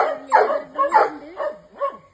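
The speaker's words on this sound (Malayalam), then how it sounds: "ഇവിടെ ഒരു ഡോഗ് ഉണ്ട്, സെബീരിയൻ ഉണ്ട്, ഹസ്കി, ഓസ്ട്രേലിയൻ കെൽപ്പിറ്റ് ഉണ്ട്" A dog, a Siberian husky or Australian kelpie at a bird park in Wayanad, gives a close run of about five sharp, yelping barks with whiny edges, loud and alone.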